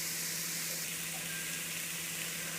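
Tomatoes sautéing in a pan for vegetable kurma give a steady, close, even hiss of frying with no break, heard alone without talk.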